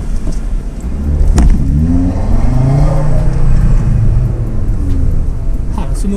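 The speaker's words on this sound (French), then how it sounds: "La sonorité du moteur quand même, elle est assez ouf." Audi RS3 with a 400 hp engine rumbles at close range during a drive, with a rising engine tone building through the middle of the clip and a steady low roar throughout.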